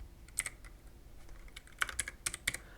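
Several quick clicky keystrokes on a computer keyboard while a number is entered, a few isolated taps followed by a faster cluster, close and fairly quiet with no talking.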